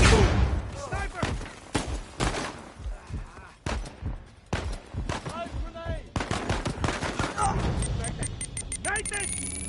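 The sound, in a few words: sniper rifle gunfire in video game Uncharted 4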